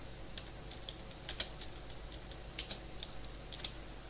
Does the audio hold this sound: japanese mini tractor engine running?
no